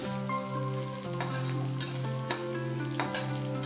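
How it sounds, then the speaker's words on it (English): Chopped ginger and green chilies fry in hot oil with a loud, steady sizzle, punctuated by a few scraping turns of a spoon, alongside a sustained tonal hum. "I'm now going to put in the green chilies and turn them around."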